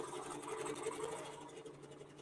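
A QBOT computerized quilting machine stitches a cross-hatching pattern, giving a steady, continuous whirring hum with a fast, even needle rhythm close to the mic, with no voices.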